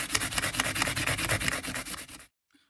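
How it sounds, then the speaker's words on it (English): Fine grit sandpaper polishes wooden parts for a four-string cigar box guitar, a steady fast rhythmic scratchy rubbing of about twenty even strokes, close and loud, then it stops abruptly into silence. "we're gonna go back with some fine grit sandpaper. As fine a grit as you want to do, and just polish those suckers up to a mirror."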